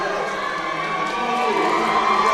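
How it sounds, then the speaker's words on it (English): Fans at a high school ball game cheer and applaud steadily for a departing player, a dense, continuous wash of crowd noise with shouts throughout. "She's going to get a heck of a round of applause."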